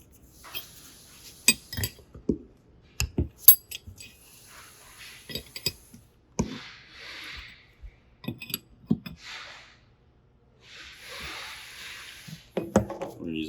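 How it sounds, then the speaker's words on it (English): A wrench tightens tube fittings on a Sterlitech CF047X cell, producing scattered sharp metallic clinks and clatters with brief scraping rustles in between, close by and moderately loud. "I'm going to finish tightening those with a wrench"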